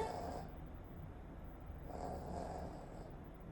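Dog snoring indoors at a house, two slow, soft breathing cycles with a raspy rumble on each breath, close and quiet, with no talk.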